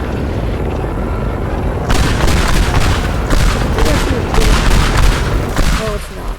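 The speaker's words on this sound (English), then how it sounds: "I think I'm gonna start bombing him." Banana bomb explosions in the Teardown video game, a string of loud overlapping booms and crumbling blasts that keep rolling for several seconds after a sudden start.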